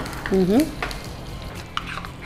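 Cumin, ajwain, curry leaves and green chilli frying in a little oil in a pan, a soft steady sizzle with stirring scrapes, while a voice briefly speaks over it.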